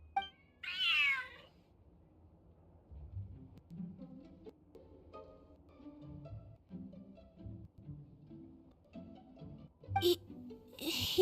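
A cat meows in the Genshin Impact video game, giving one clear, close meow near the start. Quiet in-game ambience and soft rumbling follow, and a sharp chirping burst comes near the end.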